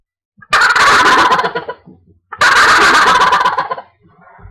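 A tube call imitates a wild turkey, producing two loud, rattling gobbles up close, each lasting over a second with a short pause between.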